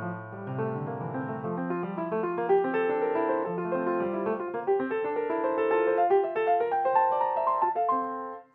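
Solo piano playing the second movement of Beethoven's Piano Sonata No. 22, a gently flowing perpetuum mobile in running semiquavers, with steady continuous notes at moderate level and no voices.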